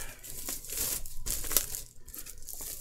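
Plastic blister packaging around a Linkin Park Meteora 20th anniversary deluxe edition CD being unwrapped up close, giving a run of crinkling, crackling bursts with a sharper snap near the middle.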